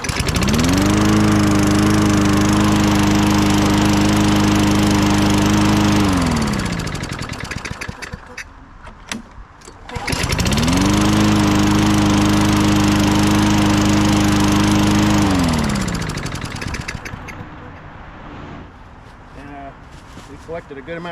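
A petrol lawn mower with a freshly cleaned carburetor starts at once and runs loud and steady in two long bursts, dropping away between them and trailing off toward the end.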